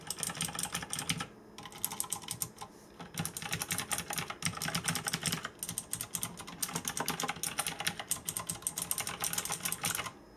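Fast, crisp clicking bursts from a Tesoro Tizona mechanical keyboard with Cherry MX Blue switches, typed up close in rapid runs separated by brief pauses, with no voices.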